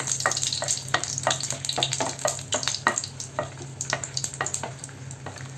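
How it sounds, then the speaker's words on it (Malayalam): Dried red chillies fry in hot coconut oil while a utensil stirs them, so the close, even sizzle carries a string of quick scraping and clicking strokes throughout. "ഇതൊന്ന് മൂത്ത് വരുന്ന സമയത്ത് നമുക്കിതിനെ വറുത്ത് കോരിയെടുക്കാം"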